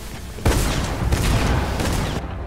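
Shotgun fire in the video game Fortnite, in a Search and Destroy mode match, with loud booming blasts and dense noisy game sound filling the whole stretch, no voices.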